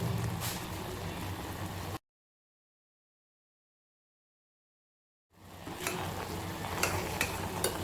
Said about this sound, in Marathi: ह्या पाकात बुंदी टाकली आणि ही बुंदी थोडीशी याच्यात पकू देऊ